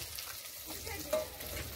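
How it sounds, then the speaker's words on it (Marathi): Spices tempering in hot oil for a rustic village-style chicken curry cooked on a wood-fired clay stove, a steady soft sizzle and crackle throughout with one brief sharper pop midway. "आता फोडणी द्यायला चालू आहे"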